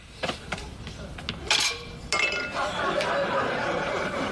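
Groceries, including flour, sugar, eggs, butter and vanilla, are set down beside a mixing bowl, with several close clinks and knocks of glass and dishes, then a steadier clatter as a person talks.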